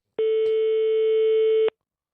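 A French phone line sounding on an outgoing call to a restaurant: a single steady, loud electronic tone lasting about a second and a half, heard alone.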